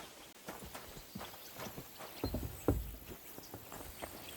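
Horse hooves clip-clop at a walking pace in the video game Kingdom Come: Deliverance 2, a steady run of light knocks with a couple of heavier thuds near the middle, fairly quiet and close.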